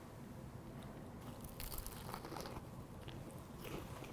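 Teeth bite into a crunchy, toasty garlic butter bread slider filled with microwave-cooked garlic prawns, a quiet close crunch followed by soft chewing, with no talk.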